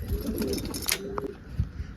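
Pigeons in a wooden coop give soft, low throaty coos close by, a few short calls over a muffled rustling background.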